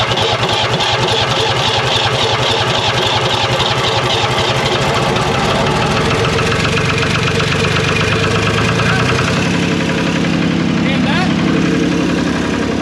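A New Holland L783 tractor's diesel engine runs at a steady idle after fuel-priming troubleshooting, a continuous close, loud mechanical chug that holds throughout with a slight shift in tone near the end.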